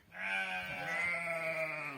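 One long, wavering bleat from a sheep or goat on a rainy mountain pasture. It is close and clear and sustains for nearly two seconds against a quiet background.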